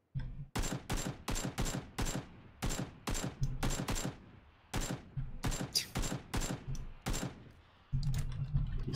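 Rapid bursts of automatic gunfire in a shooter video game, repeated sharp volleys in quick succession at steady loudness, with game ambience between them and no talk.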